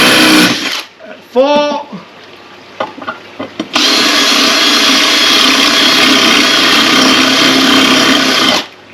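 A power drill bores into porcelain tile in one long, loud, steady grinding run lasting about five seconds, preceded by a short spoken word and a few clicks.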